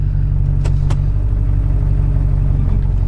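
A Duramax diesel pickup fitted with a 6-speed transmission conversion drives around a junkyard, its steady deep engine rumble close and loud, with a couple of brief clunks as it goes into gear.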